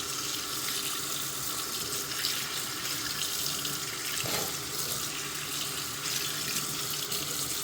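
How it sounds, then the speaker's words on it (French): Cold tap water runs steadily as Dolce Gusto coffee machine parts are rinsed under the faucet. The close, continuous splashing carries brief changes where the parts move through the stream. "Et on va s'amuser à rincer tout ça à l'eau froide."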